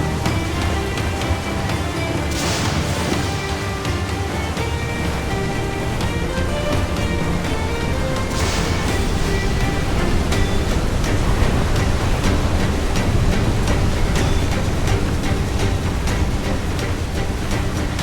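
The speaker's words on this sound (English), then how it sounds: "Water spout, man! Stay away!" Waterspout churning the sea in Assassin's Creed IV: Black Flag, a steady, loud roar of wind and water that runs the whole time beneath layered game music.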